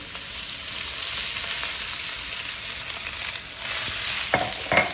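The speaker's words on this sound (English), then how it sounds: "pot's nice and hot. Let's get, hold on. Oh my God, my spoon. All right, let's get the quinoa in." Quinoa dropped into a hot pot for quinoa fried rice, a loud steady hiss of frying throughout, with a few brief scrapes and knocks near the end.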